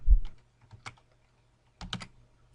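Short bursts of typing on a computer keyboard, a few close, crisp keystrokes at the start and another quick cluster near the end, separated by silence.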